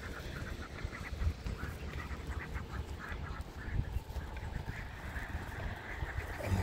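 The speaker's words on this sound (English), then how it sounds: "Ducks and geese." Ducks and geese in a rural Sichuan village, quacking and honking on and off at moderate distance over a steady outdoor background murmur, with no talk.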